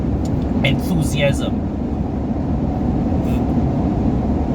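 Steady cabin drone and road roar of a 2018 Ford Ranger Raptor 2.0 Bi-Turbo pickup being driven, constant and close, with someone talking over it.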